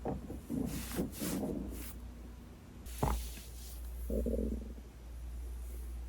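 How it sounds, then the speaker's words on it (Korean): Stomach gurgling after a meal of snack-bar ramen, low rumbles and squelchy gurgles that come and go over several seconds, with a sharp bubbling pop partway through, close and fairly quiet. "배가 엄청 꼬르륵거립니다."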